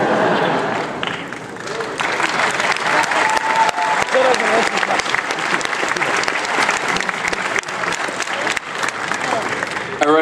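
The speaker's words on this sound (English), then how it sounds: "please join me in giving these wonderful people a huge round of applause" A large convention audience at a Dragon Ball Z voice actor panel breaks into loud, sustained applause with scattered cheers, the dense clapping rolling steadily for about ten seconds.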